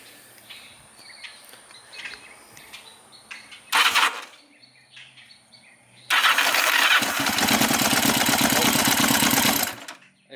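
Yamaha XJ750 motorcycle engine cranking on the electric starter: a short burst, then a loud, steady whirring crank lasting several seconds before cutting off, with quieter ambient noise between.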